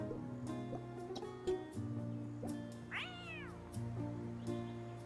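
A kitten in Chicory meows once, a clear rising-then-falling cry over a steady musical drone, close and without talk.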